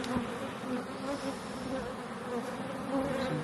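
Honey bees buzz in a dense, droning swarm around opened hive boxes, wings humming steadily at close range and wavering in pitch as individual bees pass near.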